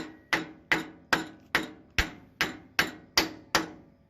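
A mallet taps an engine valve on a 1973 Wheel Horse 8hp four-speed tractor nine times in an even, steady rhythm, each sharp knock ringing briefly before the next. Close and clear, with no voices.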